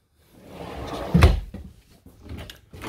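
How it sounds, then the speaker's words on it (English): Kitchen drawers in a 2020 Keystone Bullet Premier 34BIPR travel trailer slide open with a single solid thump and clatter near the middle, followed by softer rattles and handling noises close by. "Just pull out drawers."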